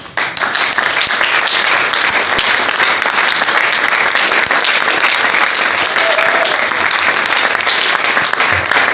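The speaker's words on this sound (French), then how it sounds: "je nous demande tous de nous mettre debout et d'applaudir très fort" A standing audience at a comedy awards ceremony gives loud, sustained applause, with a dense wash of clapping from many hands continuing evenly throughout.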